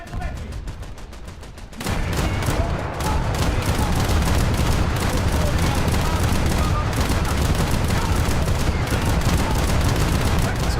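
Naval gunfire in a warship video game, the ship's A guns and secondaries firing in dense, rapid volleys that keep up a loud, continuous barrage of booms for most of the clip after a quieter start.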